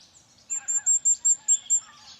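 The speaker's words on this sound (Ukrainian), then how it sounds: "Це золотомушка червоночуба, найменша пташка української фауни, занесена до червоної книги." A firecrest, the smallest bird in Ukraine's fauna, sings a rapid series of about seven thin, very high notes, clear and fairly close against a quiet background with no speech.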